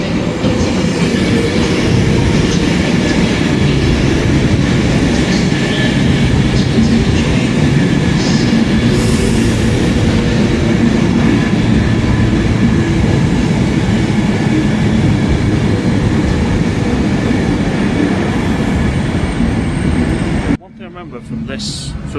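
A train at Stockport railway station rumbles loudly and continuously with rolling wheel noise and clatter for about twenty seconds before cutting off abruptly, with faint voices in the background.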